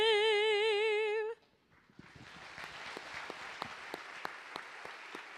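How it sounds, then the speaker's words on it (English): A high, warbling tone cuts off at about a second, then applause from an audience at a State of the City address rises, with individual claps standing out from the growing wash. "Let's give her another round of applause."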